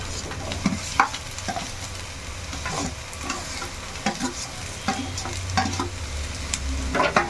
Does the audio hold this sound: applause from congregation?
no